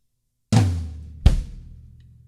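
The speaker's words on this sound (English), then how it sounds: "we're going to move our hands over to our rack tom" One rack tom hit with a resonant ringing tone, followed less than a second later by a deep bass drum thump, both close and alone.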